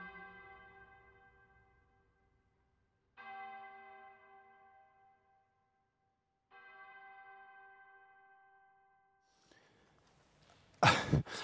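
Church bell tolls three times, each strike ringing out and slowly decaying into silence, followed by a cough and a few close thumps.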